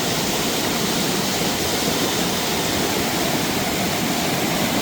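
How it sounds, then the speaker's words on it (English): River cascades in Minca pour steadily, a dense continuous roar of rushing water filling the whole clip at even loudness, with no voices. "The sounds the river makes as it flows through the landscape will stay with me forever."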